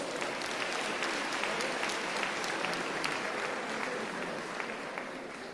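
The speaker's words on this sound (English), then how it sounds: "Let's give them a round of applause." An audience at a matric class graduation ceremony claps for the graduates, a continuous, evenly sustained round of applause that holds steady and eases slightly toward the end.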